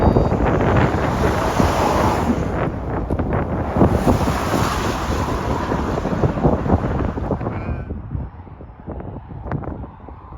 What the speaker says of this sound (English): You might be able to tell that it's windy, fighting a headwind at the moment.